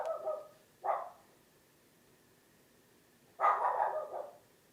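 Indoors, a dog barks in three bursts: two quick barks close together, a pause of a few seconds, then a longer, louder bark, all fairly near with no talking.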